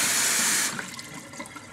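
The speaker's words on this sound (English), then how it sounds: "I pour hot water on it." Hot water pours in a steady, close rushing stream over chicken tenderloins in a kitchen, then cuts off, leaving faint drips and trickles.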